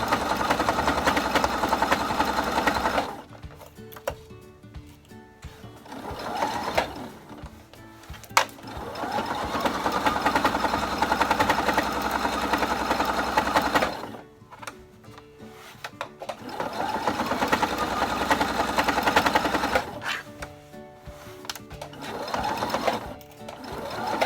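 Sewing machine stitching fabric for a coffee cozy, running in several long steady bursts broken by short pauses as the fabric is turned around curves, close and fairly loud with no talk.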